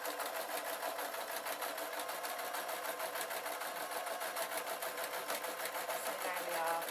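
A domestic sewing machine runs steadily, stitching a fabric knitting needle roll, with a continuous fast mechanical whir and needle chatter throughout, close and fairly loud, with no pauses.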